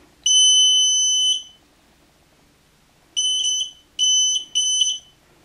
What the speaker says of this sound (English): And then we actually set up the burglar alarm.